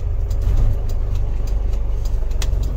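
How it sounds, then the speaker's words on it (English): A 1992 Toyota Coaster diesel mini bus with a mechanically injected engine idles close by, a loud steady low rumble with a rapid rhythmic diesel clatter running throughout. "This is a fully mechanical injected diesel engine."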